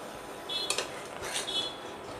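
Metal dosa spatula pressing bread omelette against a hot oiled pan, giving a few light clinks and scrapes over a soft steady background, with two small bursts of contact.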